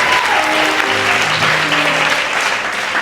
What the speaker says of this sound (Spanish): Si usted le va a dar un aplauso al Señor, no sea tan chambón y dáselo a él fuerte,